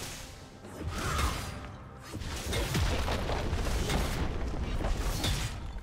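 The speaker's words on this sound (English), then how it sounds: "Red team's turret has been destroyed." In League of Legends, a turret is destroyed with a booming explosion and mechanical whooshes, a dense, loud burst of game effects that swells and stays busy to the end.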